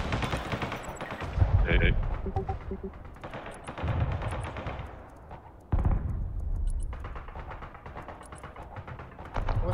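Artillery and gunfire in the war game Broken Arrow: repeated loud booms and crackling shots through the clip, with a sharp blast near the two-second mark and another near six seconds, while a voice talks over the battle.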